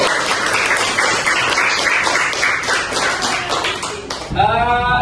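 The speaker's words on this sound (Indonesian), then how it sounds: "Kalau mengerti berarti tepuk tangan yang gemuruh" A sixth-grade classroom breaks into loud, rapid clapping from many pupils, a dense burst that runs for about four seconds before dropping off, with a short voiced sound at the end.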